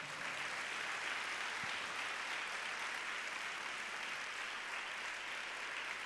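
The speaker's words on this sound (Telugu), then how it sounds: "గట్టిగా చప్పట్లు కొడదామా?" A church congregation applauds, steady continuous clapping heard from some distance at low level, with no break throughout.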